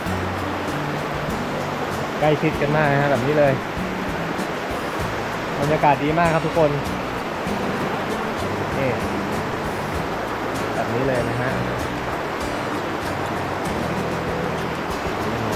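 A stream beside a campsite at Khlong Maduea waterfall, Nakhon Nayok, rushes in a constant, close hiss while someone talks over it in short stretches.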